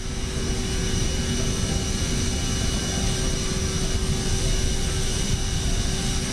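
Steady, loud aircraft engine roar during takeoff in Microsoft Flight Simulator, a constant drone with a sustained tonal hum and no pauses or talk.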